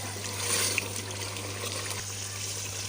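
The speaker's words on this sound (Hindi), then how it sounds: "अब हम इसमें पानी डालेंगे।" Water pours steadily into a pot of fried beef being cooked for nihari, a continuous close trickle and splash with a brief bump near the start, no talking.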